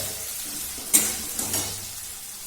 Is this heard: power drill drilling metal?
no